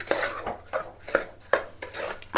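Rice being stirred with salt in a metal pot, with repeated scraping and clinking strokes of a spoon against the pot in a steady rhythm, close and clear with no talk.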